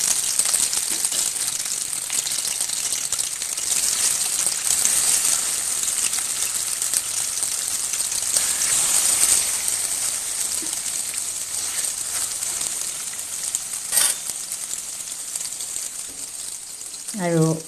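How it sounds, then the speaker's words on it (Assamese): Fish pieces sizzle in mustard oil in a wok over a gas flame, a steady bright crackle and hiss with a few faint clinks, ending in a brief sharper sound. "এতিয়া এই মাছৰ পিচকেইটা মই অলপ ফ্ৰাই কৰি ল'ম"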